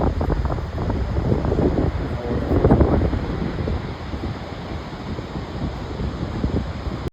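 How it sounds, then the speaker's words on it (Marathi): Steady broadband rush of a waterfall in Norway, with glacier meltwater pouring down, continuous and fairly loud with wind buffeting the microphone throughout. "हा वॉटरफॉल"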